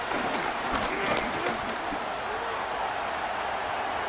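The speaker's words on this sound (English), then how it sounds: "This crowd turning up the decibel level." Madden 26 stadium crowd at a simulated Bears versus Lions football game, a broad roaring cheer with claps, loud at first and easing to a steady murmur.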